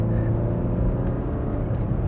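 Porsche Cayenne in sport mode under full throttle, a deep steady engine rumble and whir from inside the cabin, continuous and fairly loud for a couple of seconds.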